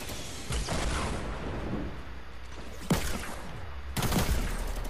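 Gunfire from a Magnum in Fortnite, a few sharp loud shot bursts separated by gaps, ringing over a dense background of game noise.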